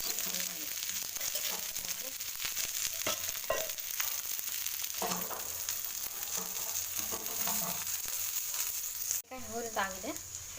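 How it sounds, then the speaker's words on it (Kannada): Okra frying in a little oil gives a steady, soft sizzle throughout, with occasional stirring scrapes and a brief louder clatter near the end, and some quiet talk in the background. "ಚೂರು ಎಣ್ಣೆ ಹಾಕಿ ಫ್ರೈ ಮಾಡಬೇಕು."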